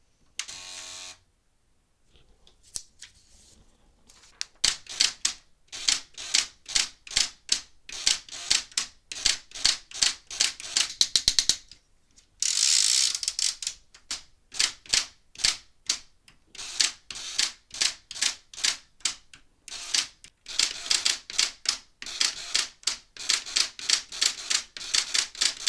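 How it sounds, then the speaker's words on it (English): Rapid bursts of clacking keystrokes from a repaired Barbie toy typewriter, typed close to the microphone in quick runs separated by brief pauses, with no talking. "Here's a quick little type test for you."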